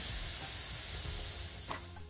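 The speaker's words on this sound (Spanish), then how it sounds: "para luego sellar los steaks en la parrilla" Birria-sauced steaks searing on a grill give a steady, close crackling sizzle with dense hiss throughout, softening a little toward the end.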